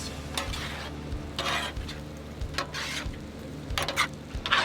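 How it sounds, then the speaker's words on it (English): A spoon stirring a sun-dried tomato and heavy whipping cream sauce with Italian herbs in a pan, with soft scraping, gentle bubbling and steady sizzle, close and quiet. "Give that a mix."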